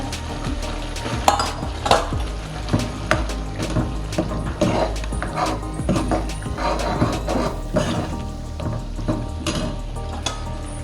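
Red chili powder and spices sauté in hot oil in a pan for spicy Nashik-style misal, giving a continuous close sizzle broken by irregular scraping and stirring sounds.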